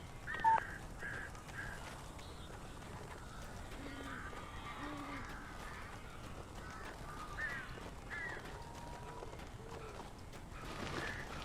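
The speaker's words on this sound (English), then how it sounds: "These birds are weird." Crows caw in the video game Alan Wake Remastered, several faint harsh calls scattered over a low ambient backdrop, fairly distant and irregular.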